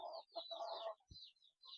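Several chickens cluck and murmur close by in short bursts, with a brief thump partway through.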